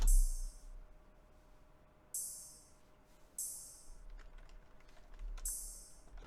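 Bright, hissy ride cymbal hits in a sparse drill beat pattern, panned right then left, made with FL Studio stock plugins: four crisp washes spaced unevenly over a low rumble, each ringing briefly before fading.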